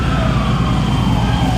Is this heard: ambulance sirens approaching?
yes